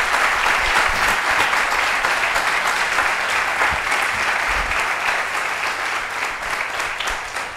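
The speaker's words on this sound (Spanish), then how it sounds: "os pido un aplauso para Luis, para Carlos y para todos los que estáis organizando esto" An audience at a talk on magical creatures of Toledo gives a long, full round of applause for Luis, Carlos and the organizers, dense and steady clapping from many hands that holds strong and tapers slightly toward the end.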